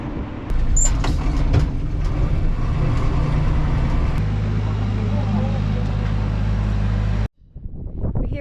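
Unimog truck driving along a rough outback track at Mount Dare, a steady loud engine drone with rumbling low end running continuously for several seconds, then cutting off abruptly near the end.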